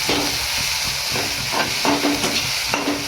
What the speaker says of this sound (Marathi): पहिला कांदा परतून घ्यायचा का? कांदा परतून घ्यायचा.